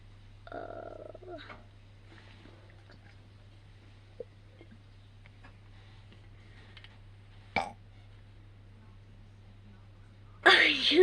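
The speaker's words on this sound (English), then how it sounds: "I just burped." A single short, low burp comes early and close, followed by quiet room hum and a few faint clicks, with a brief loud noise near the end.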